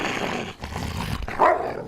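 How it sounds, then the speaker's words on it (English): Dogs playing, with close, rough growls and a brief bark-like yelp near the end, loud and continuous. "my dogs are playing"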